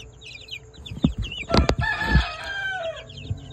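Chicks peep in high, thin chirps alongside a few louder clucks, close by and busy over a few seconds.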